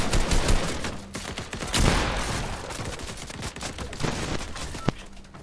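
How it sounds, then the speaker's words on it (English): Several players fire on one target in a Fortnite match: dense, overlapping bursts of gunfire crackle loudly and close, volleys hammering with barely a pause. "I'm being shot by multiple people."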